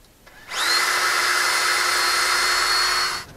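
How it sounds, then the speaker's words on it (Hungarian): A small power drill boring holes through small seashells on a beach in southern France, running as one loud, close, steady high-pitched whine for about three seconds, then stopping, with no talk. "Igen, de a kicsiket könnyebb átfúrni."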